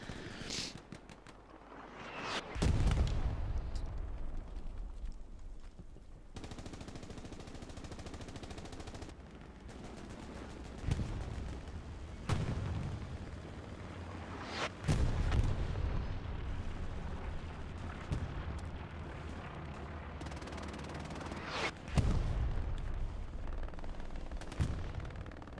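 Machine gun fire in the Hell Let Loose game during a competitive match at Carentan train station: repeated bursts of automatic fire with heavy booming impacts, some near and loud, others distant, continuing throughout.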